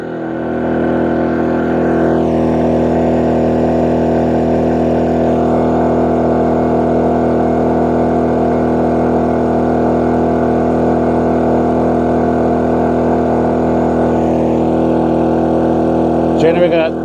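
A generator engine charging an EcoFlow Delta Pro power station drones loudly and steadily, a constant close hum with strong low tones that holds unchanged for the whole stretch.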